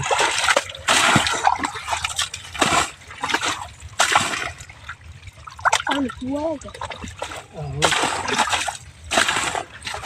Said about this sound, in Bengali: ওই যে আমাদের বাসা থেকে দেখছেন কীভাবে পানিগুলো উঠতেছে